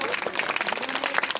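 A crowd at an outdoor Buddhist religious gathering in Hardoi district claps briefly, with quick uneven hand claps heard close, blended with voices.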